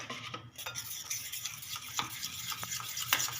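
Homemade face pack stirred with rose water in a small bowl: a steady, close, wet scraping and clicking of a spoon, continuous for a few seconds with no talk.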